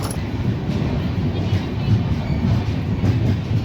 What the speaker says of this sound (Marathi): परळी अकोला पॅसेंजर हळूहळू वेगाने आपल्या मार्गाने निघाली आहे.